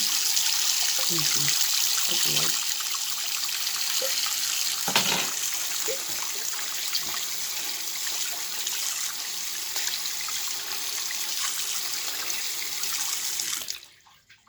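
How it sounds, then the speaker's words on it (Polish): Tap water runs steadily into a sink while an etched PCB and tweezers are rinsed, with a continuous close splashing stream and a few knocks before the flow stops at the end. "płukamy pod bieżącą wodą"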